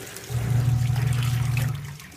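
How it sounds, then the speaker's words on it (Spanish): A washing machine filling with water, heard as a steady, loud rush and low hum of water flowing into the drum for about two seconds before easing off, with no voices. "aquí tenemos la lavadora, ya la estaba llenando. Vamos a seguir con el agua."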